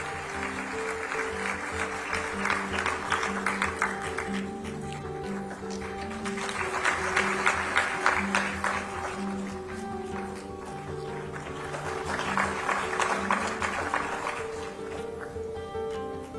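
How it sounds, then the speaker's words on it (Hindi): An audience at a school toppers' award ceremony in Sitapur claps in steady waves of applause, rising and falling over several seconds, with background music and ambient hall noise underneath. "इनके प्रिंसिपल को एक बार मिल चुका है तो उनके लिए भी ताली बजा दीजिएगा"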